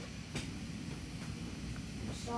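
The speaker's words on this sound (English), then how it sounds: "This is a glorious train." Train running in the Roblox game The Wild West, a steady low rumble of rolling wagons with a few faint clanks, heard alone at moderate volume.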